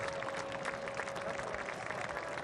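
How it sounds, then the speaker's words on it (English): A soccer stadium crowd in Pittsburgh applauds steadily, a distant, even rush of clapping with a faint whistle-like tone running underneath. "the crowd, I believe, is applauding for Gene Klein"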